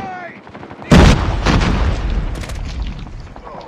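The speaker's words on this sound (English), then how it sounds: "Watch out, grenade!" A grenade blast in a war video game lands as a loud, close boom, followed by crackling bursts of gunfire and rumbling explosions, with shouted voices over the combat.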